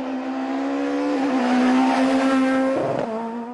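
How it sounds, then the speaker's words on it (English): Onboard sound from a rally car on a rough gravel stage at the IRC Rally Sibiu in Romania, 2012: a loud, close engine drone that rises and shifts through gears, with gravel rumble beneath it. "you can hear from on board just how rough those gravel sections are."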